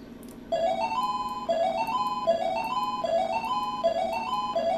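An arcade cabinet under restoration loops a cheerful electronic jingle of repeating rising notes after its coin switch is triggered, playing steadily and clearly with no talk.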